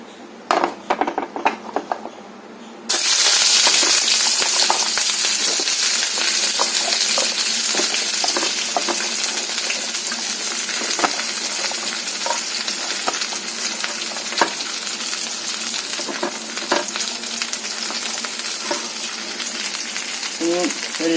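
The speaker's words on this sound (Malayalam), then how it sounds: "നമുക്ക് അതിലേക്ക് ഈ ചേന ഒന്ന് കുടഞ്ഞിടാം" Chopped elephant foot yam tipped into hot coconut oil in a frying pan, giving a sudden loud sizzle that settles into steady close-up frying with scattered crackles and faint clinks of utensils.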